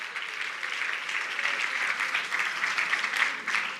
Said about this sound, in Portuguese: Let's applaud the Lord.